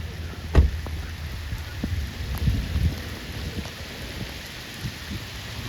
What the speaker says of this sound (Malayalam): നല്ല മുട്ടം വെയിലും നല്ല മുട്ടം മഴയും